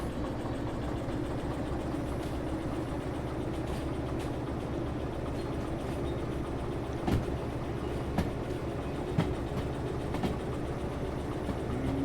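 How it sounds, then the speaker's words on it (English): Shunting engine in the Derail Valley train simulator, with a steady idling rumble and occasional clanks and clicks of railcars over twelve seconds, no voices. "we're going to do a little shunting work, getting our train put together"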